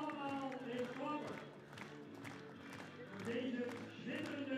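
Crowd at a Frisian horse breeding show clapping in scattered, uneven bursts while a voice talks over it and the sound swells and fades.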